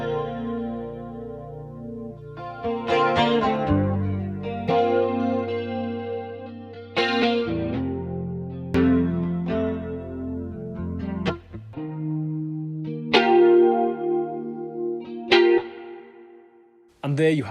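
Electric guitar with chorus effect dialed in, playing sustained chords and arpeggiated phrases with a shimmering, slightly distorted and echoing sound, loud and continuous for the whole passage with no talking.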